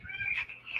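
A house cat lets out a soft, brief meow, faint and alone with no talk over it.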